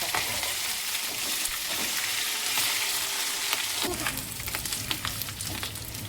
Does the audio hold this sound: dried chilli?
yes